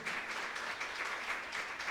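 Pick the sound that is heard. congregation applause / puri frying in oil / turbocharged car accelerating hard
congregation applause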